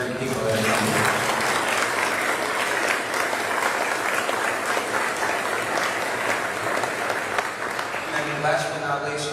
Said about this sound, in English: let's give that round of applause for the great people that have come here.